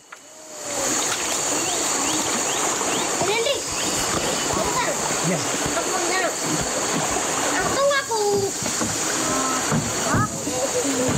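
A sampan is paddled along the Bantang Gangsal river, with continuous splashing and sloshing water from the strokes up close and voices talking over it throughout.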